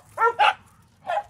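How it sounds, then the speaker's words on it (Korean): Dogs barking outdoors on a morning outing: two quick close barks followed by a third after a short pause, loud and clear over quiet background with no talking. "짖지 마라 얘들아"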